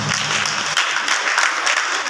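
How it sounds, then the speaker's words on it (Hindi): Audience clapping at a motivational talk, a brief burst of steady applause from a crowd, fairly close with no voices over it. "एक बार तालियां बजाएं।"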